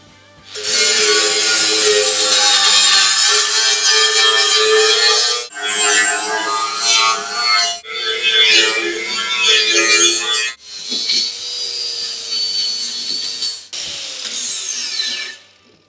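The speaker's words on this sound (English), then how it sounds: "Where's the electromatic grinder? Save a bit of Milwaukee battery life." A corded electric grinder grinds metal during prep work on a banger racing car: a loud, close, continuous high whine and rasp that cuts out and restarts briefly a few times.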